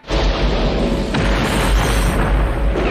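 A plane blows up in a Vietnam War film battle against Viet Cong troops, a loud, sustained roaring blast with dense rumbling debris that fills the whole moment without letting up.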